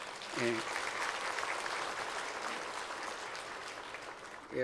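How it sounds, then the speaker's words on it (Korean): A standing church congregation gives a warm round of applause to welcome a missionary from Indonesia, a broad, even wash of clapping that carries throughout, with a voice speaking over it at the start and end. "뜨거운 박수로 한번 환영하도록 하겠습니다"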